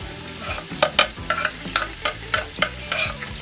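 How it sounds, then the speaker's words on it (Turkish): Chopped onion sautés in melted butter in a pan. A spoon stirs and scrapes it in repeated close strokes over a steady, low sizzle, with no voices. "Eriyen tereyağımızın içerisine soğanımızı ilave ediyoruz. Pembeleşinceye kadar kavuracağız."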